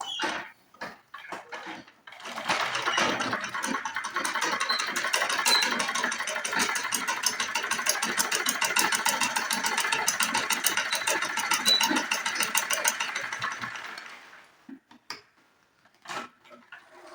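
A sewing machine runs a long, steady whirring stitch with fast ticking along folded fabric. Scattered handling clicks come before and after the roughly twelve-second run.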